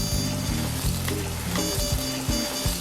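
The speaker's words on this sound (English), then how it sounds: "Hot pan, it's gonna sizzle like that." Steady crackling sizzle of meat searing in a hot pan, close and continuous, with a low rumbling hum underneath.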